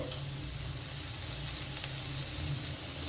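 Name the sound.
food frying in a pan on low gas flame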